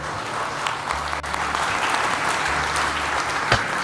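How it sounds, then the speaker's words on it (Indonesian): Steady applause from an audience fills the scene, a dense wash of clapping continuing evenly throughout with a faint low hum beneath. "Saya tepuk tangan juga guys."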